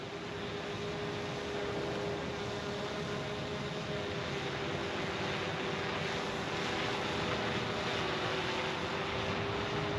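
A camera drone hovers and flies on a fourth flight over a suburban cul-de-sac, its steady high-pitched motor whine continuous and fairly close throughout, with no talking.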